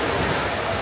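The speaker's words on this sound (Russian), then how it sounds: "мы слышим, как плещется море" Sea water splashing against a pier at a fish market on the Batumi waterfront on a hot summer day, a steady broadband wash of surf and wind filling the short moment with no talk.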